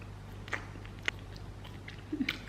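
Close, quiet bites and chewing of oven-baked Afghan kebab, a few soft crunchy bites spaced out over a low steady hum, with wet chewing toward the end.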